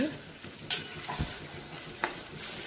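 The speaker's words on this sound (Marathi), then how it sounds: "चांगले 5-6 मिनिटं तरी परतत राहायचं व्यवस्थित असं" Ground masala paste sautéed in a pan for soybean gravy: soft frying sizzle with scattered spatula scrapes and a couple of sharp clinks against the pan, heard close and without voices.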